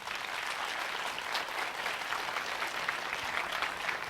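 An audience at a home care products presentation breaks into steady, even applause that fills the whole moment at a moderate level, with no one speaking.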